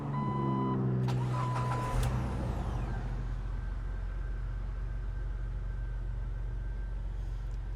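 A Jeep Wrangler engine idles with a steady low rumble, preceded by a few short beeps and a brief metallic clatter near the start.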